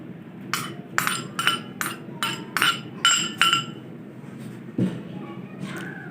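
Finely chopped onion scraped into whisked curd for raita, heard as a run of about eight sharp metallic taps of a spoon or knife on a bowl rim, followed by a soft thud and light clinks.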